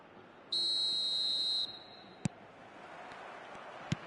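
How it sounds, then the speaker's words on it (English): A referee's whistle in a football video game gives one long shrill blast of about a second over crowd ambience, followed by two sharp knocks. "There's the whistle"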